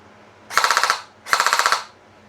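A Han Di GlockZ G19 Gen 5 toy gel blaster fires two quick full-auto bursts of about seven sharp, rapid clacks each, close and loud, separated by a brief pause.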